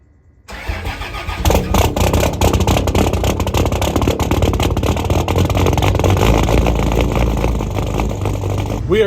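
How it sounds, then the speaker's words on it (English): A truck engine starts and settles into a steady, loud idle and running rumble that holds unbroken for several seconds, up close. "We are in the truck now."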